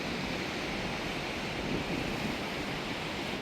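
Powerful ocean waves surging against a northern coastline, heard as a continuous, broad roar of surf with a steady, wash-like rush and no distinct breaks, fairly distant and unaccompanied by talk.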